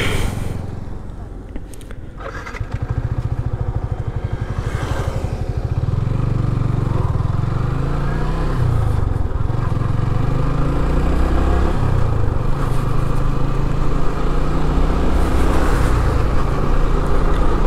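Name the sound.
motorcycle riding on a road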